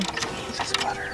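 Ratchet clicking rapidly as lubricated bolts are loosened on the inverter converter of a 2010 Toyota, a dense close-up burst of mechanical ticks.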